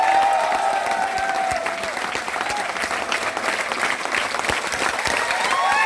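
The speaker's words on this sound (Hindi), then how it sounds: "ताली तो बजा दो यार" Audience applause at a business training meeting, dense clapping filling the room steadily for about six seconds, loud and close with scattered louder claps.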